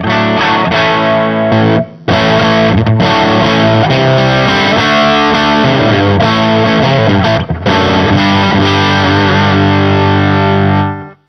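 A distorted electric guitar through an EarthQuaker Devices Bows OC139 treble booster, played loud and close, chords and riffs with a bright, crunchy edge and brief pauses, ringing out at the end.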